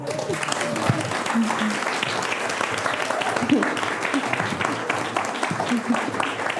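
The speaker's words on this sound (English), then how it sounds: "So everyone clap." A live audience at a talk on algorithms claps together, a dense sustained burst of applause with voices calling out underneath.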